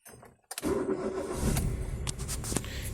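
A car engine running on CNG starts up after a brief pause and settles into a steady, close idle with a rough rumble, with a few clicks and jingles over it.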